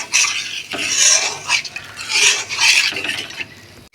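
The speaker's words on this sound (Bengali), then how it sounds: "এবার নেড়ে জলটা দিয়ে দেবো।" A spoon scraping and stirring thick fish curry masala in a pot, several rough rasping strokes in bursts with brief pauses, close and fairly loud, no talk.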